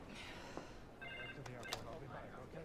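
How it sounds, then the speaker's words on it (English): Faint telephone ring at a Berlin hotel, the Adlon Kempinski, heard as a brief electronic trill buried under nearby conversation. "Would you allow me to answer the phone?"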